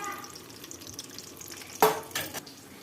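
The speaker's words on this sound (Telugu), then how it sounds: "అప్పటి వరకు బాగా వేయించాలి." Chopped onion frying in oil in a pan while being roasted to a reddish golden tempering for a potato fry, a low steady sizzle with brief louder stirring and scraping bursts near the end.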